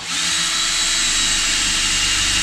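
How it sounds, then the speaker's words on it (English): A power drill drives screws into a bathtub while renovating an abandoned cabin, producing a loud, steady motor whine that holds for the whole stretch without any talk. "put a couple more screws in this bathtub to hold it in"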